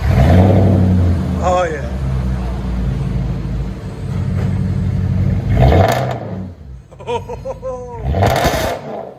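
Straight-piped Audi S4 V8 revving loudly and steadily up close, with sharp rising blips near the end, while people talk and react over the engine noise.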